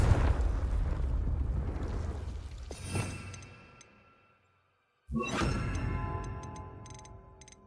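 A Confringo blasting spell explodes in Hogwarts Legacy: a loud, broad rumbling whoosh that fades into near silence, then a second sharp burst with crackling debris and a sustained roar.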